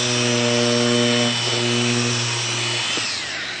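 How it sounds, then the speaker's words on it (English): A Festool Deltex triangular sander running with dust collection, a close, steady humming whine with a rough sanding hiss that tapers slightly near the end. "So that's the Deltex sander."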